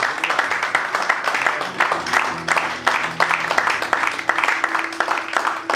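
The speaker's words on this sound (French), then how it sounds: "Est-ce qu'on peut acclamer la parole de Dieu?" A church congregation at a Sunday service applauds together, a dense, sustained burst of many hands clapping in a rhythmic, near-steady pattern filling the room.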